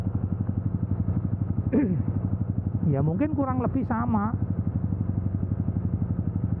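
A motorcycle engine idles close by with a steady, throbbing rhythm that lasts throughout, while someone talks briefly over it.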